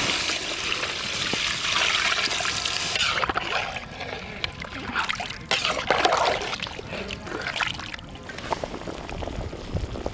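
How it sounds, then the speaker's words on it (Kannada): Water poured into a country chicken curry, a loud steady gush for about three seconds, then softer trickling and sloshing in the pot. "ನೀರು"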